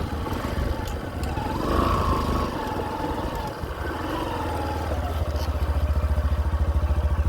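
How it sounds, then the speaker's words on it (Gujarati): A motorcycle engine on a Gujarati village road starts and settles into a loud, close idle with a steady rapid thumping that grows more regular toward the end. "હવે આપણે બાઇક સ્ટાર્ટ કરીશું"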